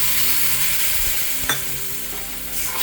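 Milk hitting semolina roasted in ghee sets off a loud, close, crackling sizzle that stays dense throughout, with a brief sharper burst midway.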